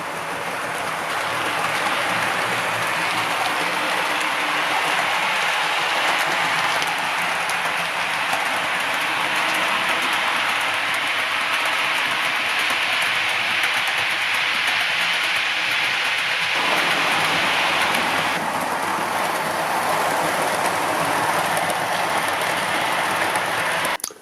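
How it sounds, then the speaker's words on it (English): A Hornby OO gauge Class 92 model electric locomotive in GBRf livery runs on its track, producing a continuous whirring motor hum and rail rumble that stays steady and fairly loud for over twenty seconds, with a shift in tone partway through. "Let's see some running clips and then I'll tell you a little bit more about the loco."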